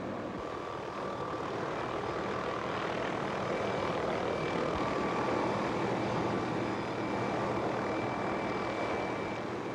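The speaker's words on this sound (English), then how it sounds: "Helicopter pilot Larry Hallis maneuvers the chopper closer" A steady, loud engine roar drones on without pause, like a helicopter hovering nearby, with no voices.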